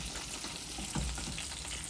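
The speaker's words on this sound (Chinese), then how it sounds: "奶油煎鸡腿" Chicken thighs pan-frying in butter make a constant close sizzle and crackle for about two seconds, with a small clatter midway and no voices.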